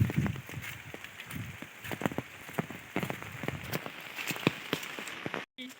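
Heavy rain falls around a flooded pond, a dense, steady patter of drops close by that continues throughout, with no voices.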